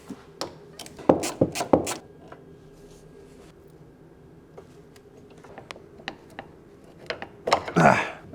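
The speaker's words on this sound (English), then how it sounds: "That's the steering column bolt that we need to unbolt." Close, sharp ratchet clicks and metallic tool knocks in short bursts while a bolt is loosened on the steering column of a BMW E39 M5 that sat unused for 13 years, with quiet gaps between the bursts.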